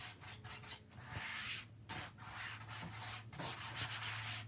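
Close, steady rubbing and scraping of shower curtain fabric being smoothed flat against a board, continuous strokes with brief pauses and a low hum underneath.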